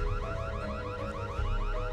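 A car-style alarm sounds loud and continuous, its rapid repeating electronic warble cycling steadily with no voices over it.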